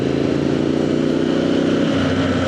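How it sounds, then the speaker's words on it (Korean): A Triumph Scrambler 900 motorcycle engine rumbles continuously and loudly nearby, a steady throaty exhaust drone with no talking. "이 스크램블러 머플러라든지 이 엔진 사운드가 이 피크 치는 그런 사운드가 좀 있어요"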